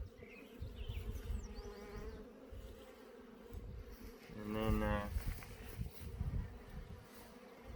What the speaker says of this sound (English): We're gonna put it in this hive here with all the bees.